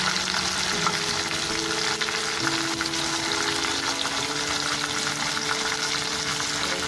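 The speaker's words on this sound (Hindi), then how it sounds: "प्याज हमारी लाइट ब्राउन हो गई है। अब इसके अंदर हम टमाटर डालेंगे।" Tomatoes go into light-browned onions frying in a pan for a bhindi, potato and pakora vegetable dish, giving a steady close sizzle with soft stirring beneath a low background hum.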